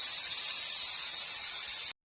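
Pressure cooker releasing steam while boiling groundnuts in salted water, a loud continuous close hiss that cuts off abruptly, no voices.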